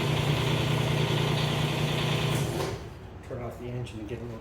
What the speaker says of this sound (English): Turn off the engine and get a little quieter in here.